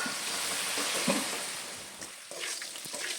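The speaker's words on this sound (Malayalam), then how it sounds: "ഞാനിവിടെ നന്നായിട്ടിതൊന്ന് വറുത്തെടുക്കുന്നുണ്ട്" Papad frying in hot oil makes a continuous, fairly loud hiss and crackle that eases slightly toward the end, with no talking.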